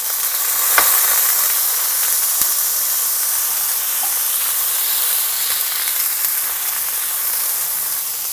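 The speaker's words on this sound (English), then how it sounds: "I'm going to now cook the onions, and let's add in the broccoli." Onions and broccoli sizzle steadily in a hot stir-fry pan for a chicken broccoli stir-fry, a constant close frying hiss with a couple of sharp crackles near the start and no talking.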